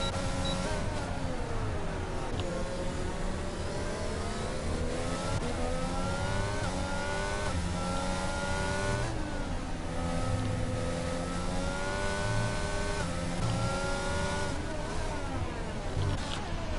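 Formula 1 race cars, McLaren and Haas among them, screaming through gear changes on the Bahrain circuit in a racing game, their high engine whine rising and falling in repeated sweeps, with a commentator talking over them.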